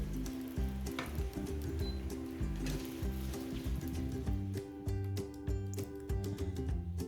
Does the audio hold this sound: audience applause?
no